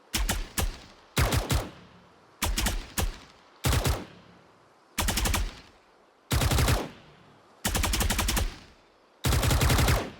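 Gunfire from a Phantom rifle skin in the game Valorant: repeated loud bursts of rapid automatic shots, starting as short two- and three-round bursts and growing into longer sprays, separated by brief silences.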